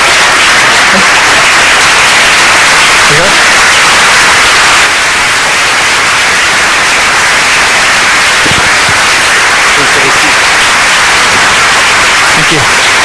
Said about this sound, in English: So please welcome him with a big applause